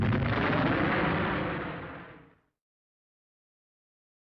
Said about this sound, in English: German M42 machine gun.